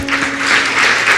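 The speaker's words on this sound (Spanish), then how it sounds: "Pues un aplauso a Dios." Brief burst of applause from a church congregation at the close of a meeting, dense clapping heard close and fairly loud over a low hum.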